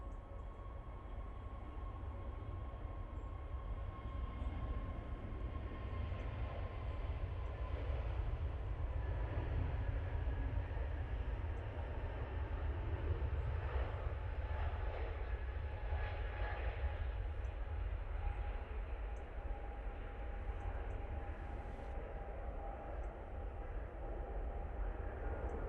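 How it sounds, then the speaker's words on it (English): Airbus A321neo jet on its takeoff roll at Manchester Airport, bound for Alicante. A steady low rumble with faint tonal whines carries on evenly for the whole stretch, heard from some distance with no talk over it. "A321neo now on the roll."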